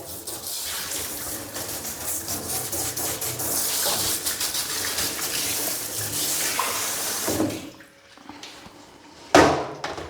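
Broad, steady hiss of water spraying over a potted fern during a shower, close and continuous for most of the span, then briefly dropping off before a short renewed burst of spray at the end.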